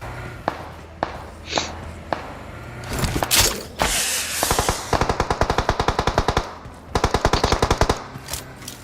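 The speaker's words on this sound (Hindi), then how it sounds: "तभी मुझे कुछ गोलियां चलने की आवाज आती है" Video game gunfire: a few scattered single shots, then rapid bursts of automatic fire in quick, even rhythm, loud and close.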